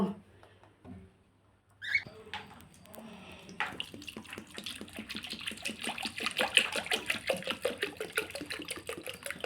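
Fresh water pours into a container for pet pigeons, a steady splashing gush with quick rhythmic pulses that starts after a few seconds of quiet handling sounds, with faint voices nearby.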